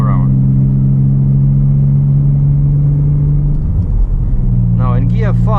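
A 2017 Ford Mustang cruising in fifth gear at about 2350 RPM on Ontario's 401 highway, a steady loud low engine drone and road rumble from inside the cabin, with someone talking near the end.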